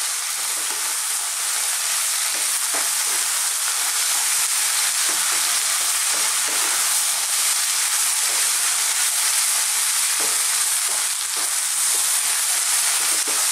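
Vegetables for a chickpea spinach curry fry in a pan as spice powders are stirred through them, giving a steady, close, dense sizzle with faint scraping stir sounds throughout and no talking.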